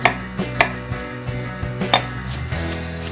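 A knife chops garlic on a cutting board for a short ribs braise, giving a run of sharp, close taps at irregular intervals over a steady low kitchen hum.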